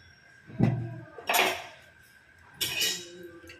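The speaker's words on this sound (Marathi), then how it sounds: "ॲक्च्युली गॅसवर पातेलं ठेवत आहे असं वाटतं मला." A metal pot set down on a gas stove: three close, clanking metallic knocks spaced about a second apart in an otherwise quiet kitchen.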